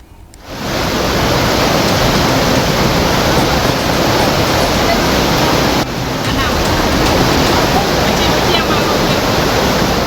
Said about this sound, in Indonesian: luapan Sungai Batang Kuranji merendam permukiman warga